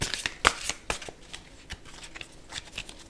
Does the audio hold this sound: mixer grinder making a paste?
no